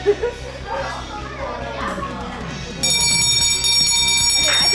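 A bell rings steadily at a ball-throwing carnival game, starting partway through and continuing to the end over lively crowd chatter and nearby voices.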